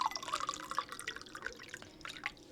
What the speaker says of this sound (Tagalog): Nilalagyan ko ng tubig na konting malamig tapos yung hot water mga babes.